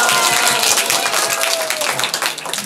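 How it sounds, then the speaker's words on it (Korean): Audience applause in a hall at a youth video storytelling camp, a steady wash of clapping from a seated group, fairly loud and continuous for a few seconds with faint voices mixed in. "박수."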